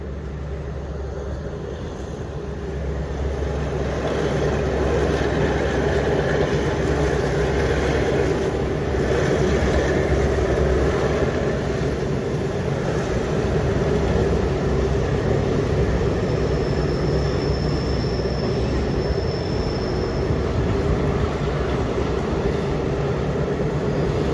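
A southern line passenger train pulls out of Krung Thep Aphiwat station on an elevated track, its engine rumble building and holding steady at a moderate level, with a faint whine appearing near the end.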